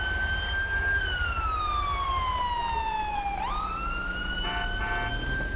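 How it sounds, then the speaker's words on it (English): A Ford F-750 ambulance siren in GTA 5 wails steadily with one long, slow pitch sweep down and back up. It switches to short, rapid yelping bursts near the end, loud and continuous over constant traffic rumble. "Why did he leave his siren on?"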